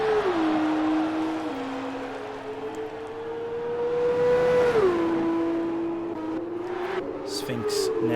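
An F2 race car in a racing video game speeds past the pits, its engine a sustained high whine that shifts pitch as it drops and climbs through gears, loud and steady with commentary talk running over it.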